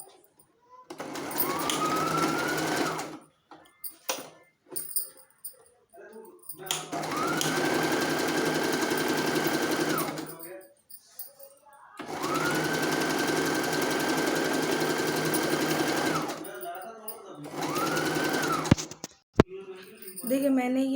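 A sewing machine runs in three long bursts stitching a folded fabric belt strip for a baby frock, with short pauses between runs and a couple of brief clicks near the end.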